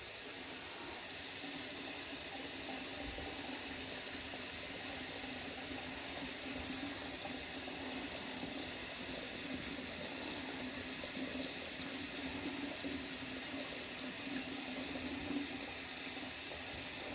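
Tap water runs steadily into a sink while a thick, thirsty shaving cream is being wetted, a continuous broad hiss with no pauses across the whole stretch, moderately loud and close.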